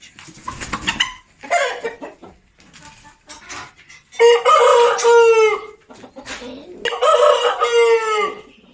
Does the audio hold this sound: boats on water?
no